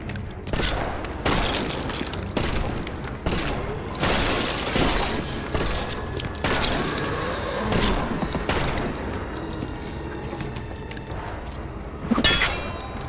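Rapid gunshots in the horror game Ebola Village, a dense string of sharp cracks mixed with shattering and clinking impacts, loud and close, continuing for over ten seconds without speech.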